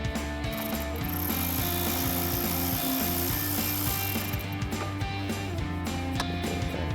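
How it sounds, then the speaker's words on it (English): Hand ratchet with an 8mm socket backing screws out of a Jeep Wrangler headlight mount, giving steady close clicking over a low hum of background noise without speech. "So we've got our 8mm socket on our ratchet. Get those out."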